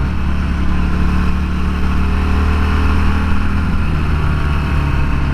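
A 2009 Harley-Davidson Sportster 1200 Custom motorcycle on the move, its V-twin engine droning steadily with a deep, continuous rumble and wind noise, close and loud with no talk.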